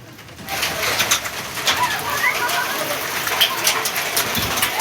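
Unseasonal rain patters steadily on surfaces nearby in Pimpri-Chinchwad, Pune, while a pigeon coos repeatedly close by, with no speech.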